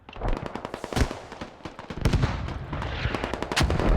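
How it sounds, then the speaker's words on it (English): Explosions and gunfire crackle nonstop through a Squad battle. Dense, overlapping bangs and sharp cracks with loud booming peaks sit over a constant rumble of combat. "Explosions happening again."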